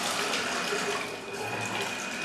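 Water runs steadily from the valves of a bathroom bidet, a continuous close rushing hiss with no speech over it.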